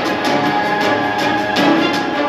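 A music mix plays through a cheap $8 mono hockey-puck speaker, sounding thin and boxy, with a steady beat and an even level throughout and no talking.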